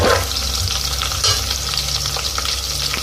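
Onion, garlic and whole chillies sizzle loudly in hot oil in a pan for a lauki peel bhujiya. A spoon stirs them with soft scraping, and the frying hiss runs continuously without speech.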